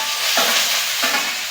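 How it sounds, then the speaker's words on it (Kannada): Peanuts, curry leaves and onions fry in a pan, a steady close sizzle with two short scraping stirs of a utensil. "ಫಸ್ಟು ಕಡಲೆ ಬೀಜನ ಹಾಕಿದ್ದೀವಿ, ಅದಾದಮೇಲೆ ಕರಿಬೇವು, ಅದಾದಮೇಲೆ ಈರುಳ್ಳಿಯನ್ನು ಚೆನ್ನಾಗಿ ಸ್ವಲ್ಪ ಫ್ರೈ ಮಾಡ್ಕೊಳ್ಳಿ."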